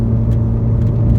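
A car rolls along on ATR Sport 2 tires, its steady low road rumble and engine hum loud and constant throughout, with no voices over it.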